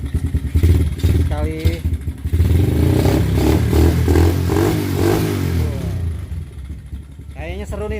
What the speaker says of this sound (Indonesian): jadi sekalian kita tes suaranya dengan ini untuk starternya belum bisa on, jadi masih kita kick